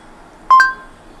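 A chat messenger app's voice-typing prompt gives a short electronic beep: two quick, clean tones in close succession, loud against a near-silent background.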